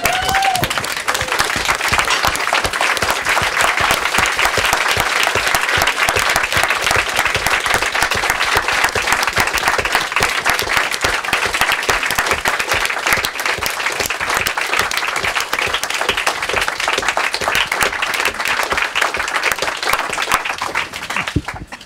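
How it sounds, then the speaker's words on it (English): A standing audience at a club gathering claps steadily and loudly, dense applause filling the whole stretch without let-up and with no talking over it. "So let's stand up and clap and welcome him back."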